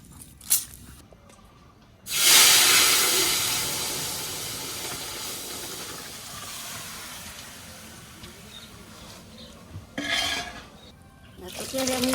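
Cumin seeds and bay leaves hit hot oil in a home kitchen while a katla fish curry with potato and cauliflower is made: a sudden loud, close sizzle bursts out and slowly fades into a steady hiss, with a second brief flare later.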